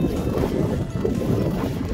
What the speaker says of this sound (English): Oh, it's really windy, guys.